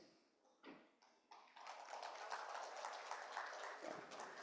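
At a management education summit, a few separate claps from the audience grow into full applause for the panelists and moderator, building over the first second and a half and then holding steady and fairly loud.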